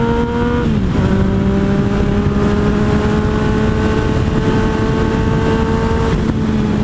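Engine of a 2017 Yamaha FZ-09 (MT-09) motorcycle droning loud and close as the bike accelerates through gear changes, its pitch stepping down at each shift, with wind noise throughout.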